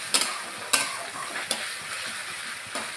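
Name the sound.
frying spice paste (masala) in a pan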